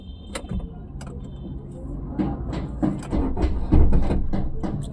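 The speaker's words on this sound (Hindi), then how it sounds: "क्लच दबा के इंजन स्टार्ट कर लिया जाए" A car engine is cranked and started with the clutch pressed during a driving lesson: a few clicks and door-like knocks, then rising mechanical chatter and a swelling engine rumble toward the end, with no talk.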